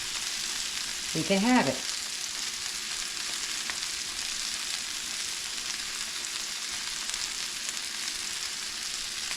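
Chicken, bacon and mozzarella sizzle steadily in a pan, a constant close frying hiss running throughout, with a brief spoken phrase early on.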